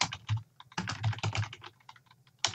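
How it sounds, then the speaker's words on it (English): Rapid keystrokes on a computer keyboard come close and clear in uneven bursts, with a short pause midway and a final tap, entering a contact name into a Google Sheets spreadsheet. "So I can type in contact name."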